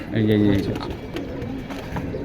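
A brief low pigeon coo at the start from colored pigeons offered for sale, heard under continuous nearby speech.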